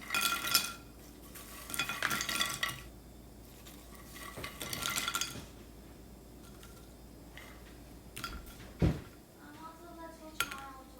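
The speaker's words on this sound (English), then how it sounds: "our crispy salted matri or achari matri are ready. And here you can hear the crisp." Crispy fried matri, both salted and achari-spiced, crunching and clattering in a few loud bursts with gaps between, as a pan or dish is handled nearby; some faint background noise.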